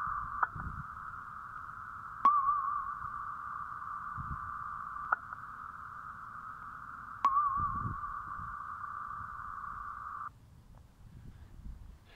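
A steady electronic hum from an audible NMR signal holds a single pitch for about ten seconds, marked by a few sharp clicks, then cuts off to faint background noise.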